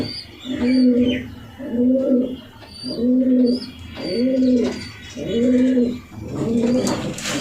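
Low coos from a Red Checker racing pigeon repeat about six times in a steady rhythm, loud and close, each a soft rolling hoot with brief pauses between.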